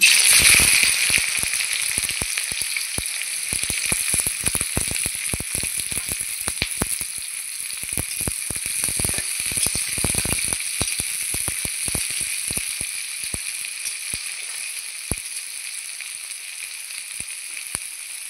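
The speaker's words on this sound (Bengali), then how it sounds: "আজকে আমি সাদা তেলে রান্না করব বিরিয়ানি। তো সাদা তেলে ব্রেস্তা ভেজে নেব।" Sliced onions for biryani fry in white oil in a kadai, producing a loud, dense sizzling hiss peppered with rapid pops and crackles that continues throughout, with no voices.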